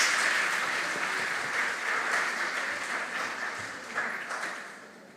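Applause from a school audience at the opening of a morning quiz competition, a moderate, even wash of clapping that holds steady and then slowly fades over a few seconds.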